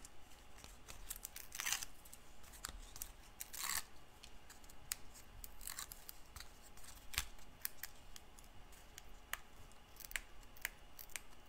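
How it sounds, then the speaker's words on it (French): Small backing papers being peeled off during an ink roller craft job, heard as faint, scattered crisp ticks and tearing crackles at close range, quiet and intermittent over a low background hiss. "Alors là, on enlève les petits papiers."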